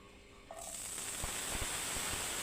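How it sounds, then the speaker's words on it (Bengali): Onions and garlic frying in a pan, a steady close sizzle and hiss that builds after a brief start, with a few soft clinks of utensils. "প্রথমে পেঁয়াজগুলো কেটে নিয়েছি, এগুলো ভেজে নিতেছি।"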